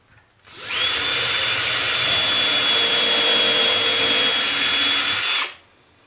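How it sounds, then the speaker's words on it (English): An electric drill with a 3/32 bit spins up sharply, whines at a steady high pitch for about five seconds while boring into wood, then cuts off abruptly. "Now we grab this with a 3/32 drill, and we drill a hole right through here."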